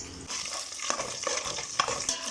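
Meat pieces searing in hot oil in a pan give a close, steady sizzle, broken by repeated scraping stirs of a utensil against the pan, with no voices.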